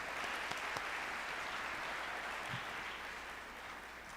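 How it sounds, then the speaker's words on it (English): Audience applause at an MLK tribute and celebration, a steady continuous wash of clapping from a crowd, moderately loud and sustained throughout, tapering slightly toward the end. "Give yourselves a round of applause."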